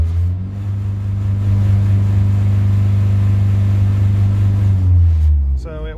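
VW Rabbit with a swapped 1.4 turbo engine revving but held below 3000 rpm, a loud low droning hum that rises slightly, holds, then drops away, with someone speaking over it.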